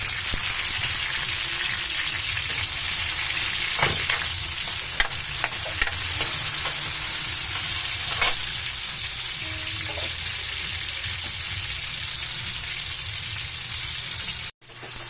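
Tomato sizzles and fries in a pan while being stirred for a Filipino ginataang tulingan dish, a steady bright hiss running throughout with occasional scraping clicks of the spoon, no talking.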